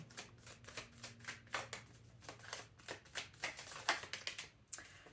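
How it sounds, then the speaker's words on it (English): Small tarot cards riffled and shuffled in quick, soft bursts, a close papery flutter with no talking. "I'm only shuffling once because these are tiny"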